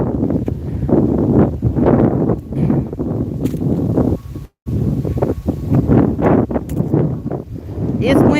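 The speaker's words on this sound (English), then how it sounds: "It is very windy out here" Strong gusts buffet the microphone in loud, rumbling waves, with a brief dropout midway; voices seem to be talking underneath.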